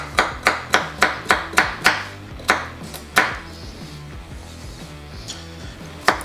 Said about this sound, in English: Let's go ahead and chop up some carrots.